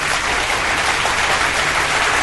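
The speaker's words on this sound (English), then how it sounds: "Do you want a round of applause?" Steady clapping from a crowd, a dense wash of applause that holds at an even level throughout.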